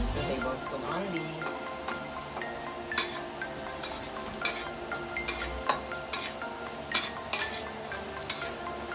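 Potatoes and onions cooking in a pan, with a soft background sizzle punctuated by a series of sharp clinks and scrapes from stirring utensils against the pan, fairly close and steady.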